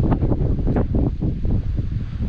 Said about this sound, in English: The wind's blowing from the southwest, so this is where the shelter is to be found.